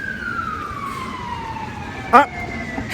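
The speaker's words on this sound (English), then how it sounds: "They've set out the sirens for us." A steady emergency vehicle siren wail slowly falling in pitch, somewhat distant, with New York City street noise underneath and one brief louder burst near the end.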